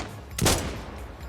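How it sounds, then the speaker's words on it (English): A single burst of rapid video game gunfire cracks out briefly, loud and close, then fades into a low ambient hum. "I also still heard some gunshots."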